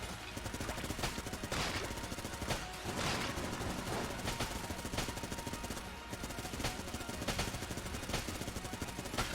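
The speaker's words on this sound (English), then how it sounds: "So now it's just Vulcan cannon, which is still good." Vulcan cannon in the video game Enter the Gungeon, firing rapid continuous bursts of gunfire with dense repeating shots throughout, moderately loud, with no talk.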